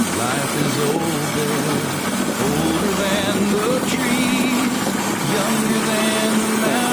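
Engine of a retro Toyota Crown idling during a tune-up, a steady near rumble whose RPM rises slightly, with a person talking over it.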